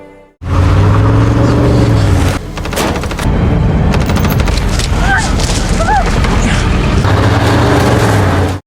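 A car speeds away under fire during a violent action chase in the 2023 film Shrapnel: a loud, sustained engine roar mixed with rapid bursts of gunfire and booms, close and dense throughout.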